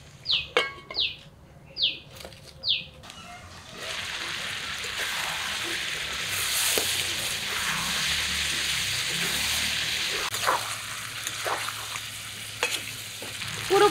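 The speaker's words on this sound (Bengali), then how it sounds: "একেবারে ভালোভাবে কষিয়ে নিচ্ছি।" Mutton pieces with potatoes stirred and fried in a kadai, a steady close sizzle running throughout with occasional scraping stirs, preceded by a few sharp bird chirps at the start.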